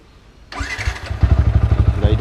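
A motorcycle engine starts up after a blown fuse is fixed by the roadside, catching at once and settling into a loud, steady, close-up idle with a rhythmic low putter.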